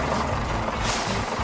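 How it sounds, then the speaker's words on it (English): A concrete mixer truck from a kids' construction vehicles app rumbles loudly up close, its heavy engine droning steadily with a brief hiss partway through. "It is a concrete mixer truck."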